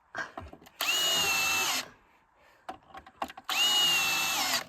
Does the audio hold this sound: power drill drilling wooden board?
yes